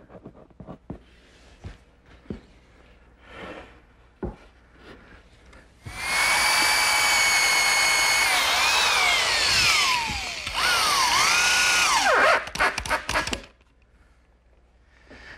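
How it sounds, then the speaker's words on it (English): A power drill drives screws to fasten 2x4s in a workshop, with two loud whirring bursts that rise and fall in pitch as each screw seats, set between quieter taps and handling knocks of the wood. "I'm just going to use a little bit of glue and some screws to fasten the 2x's."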